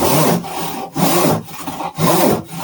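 A hand panel saw rip-cuts along a line in timber, loud and close, with steady rasping push-pull strokes in an even rhythm and brief pauses between them, and no voices.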